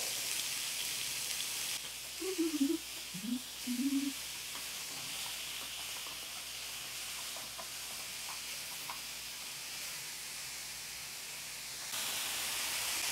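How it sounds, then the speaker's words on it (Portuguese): Chicken frying in a pan gives a soft, steady hiss with light crackles, and a few brief warbling tones come early on. "deixa ele fritar desse lado, depois você só vira e pronto"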